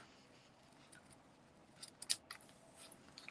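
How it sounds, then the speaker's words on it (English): Ribbon scissors trim the edge of a jumbo paper gift tag, giving a few quiet crisp snips that peak in a sharp cut near the middle over soft room noise. "Checking I'm using my ribbon scissors,"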